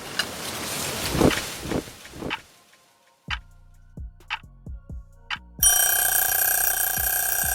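Scattered ticking and clicking sounds give way to a loud, continuous electronic alarm ringing steadily until the end.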